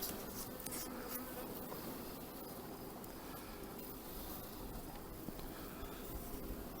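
Bees swarm around an opened beehive while a beekeeper searches for the queen, a dense, steady buzzing drone that fills the whole stretch, close and fairly quiet, with no voice.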